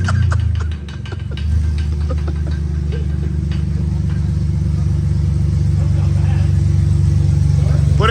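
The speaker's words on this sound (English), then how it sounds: "He's about to start it with no exhaust. Just open headers. It might be loud as hell." BMW E46 engine idling and rumbling through open headers with no exhaust, loud and steady throughout, with a deep low drone that dips briefly near the start; people talk faintly over it.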